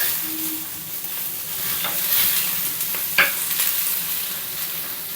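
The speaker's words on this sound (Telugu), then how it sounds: "ఇప్పుడు ఆనియన్ కాస్త ఆయిల్ అలా ఫ్రై అయింది. ఇప్పుడు చింతపండు యాడ్ చేసుకొని ఒకసారి ఇలా కలిపేసుకొని" Onions fry in oil with tamarind added, a steady close sizzle punctuated by scraping and stirring strokes and one sharper knock against the pan.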